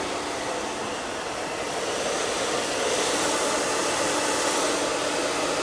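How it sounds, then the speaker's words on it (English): A twin-turbo Arrojo hair dryer blows steadily during a curly bob haircut, a loud, continuous broadband rush of air held close throughout with no talking. "This is a twin turbo Arrojo dryer."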